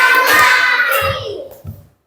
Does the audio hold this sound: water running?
no